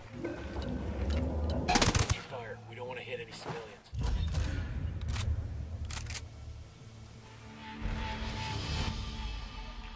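Several sharp gunshots in Ghost Recon Wildlands crack out in scattered bursts, with a voice talking in Polish throughout.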